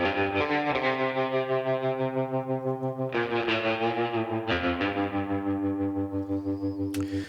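A dry electric guitar lead with tremolo and no reverb plays sustained, pulsing notes, the volume wavering rhythmically as phrases change, alone and fairly quiet.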